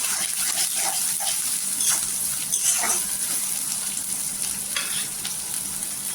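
Chopped onions sizzle and crackle in hot oil in a kadhai, a steady close frying hiss with brief stirring scrapes.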